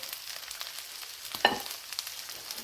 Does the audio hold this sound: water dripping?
no